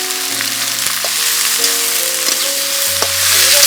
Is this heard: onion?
yes